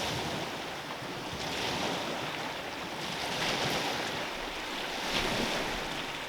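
Water rushes steadily outdoors in a natural setting, a continuous broadband wash close to the microphone with some wind buffeting, heard alone without talk.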